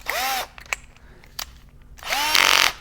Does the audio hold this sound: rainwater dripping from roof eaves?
no